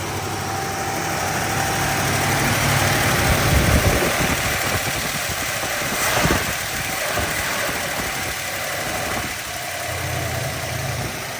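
A car engine warming up at a fast idle right after starting, a steady close hum with mild vibration, some wavering at the edges but otherwise even and alone.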